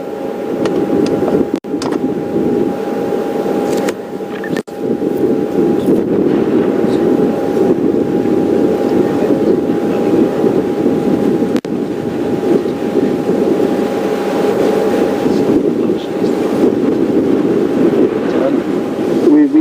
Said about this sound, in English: And this wind's keeping them nice and cool